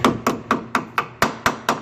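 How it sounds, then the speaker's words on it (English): A hammer taps alignment pins into the radiator core support of a 2015 Ford truck with the 6.7 engine, eight sharp metallic strikes in a steady, even rhythm, close and loud with no talking. "just with a hammer."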